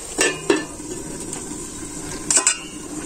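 Taro stalk curry with puti fish and shrimp being stirred in a pot, a low simmering sizzle broken by a few sharp clinks and scrapes of the spoon, close and alone.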